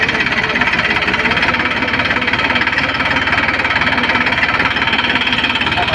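A farm tractor's diesel engine runs at a steady idle, a loud, close, rhythmic chugging knock that holds evenly throughout with no voices.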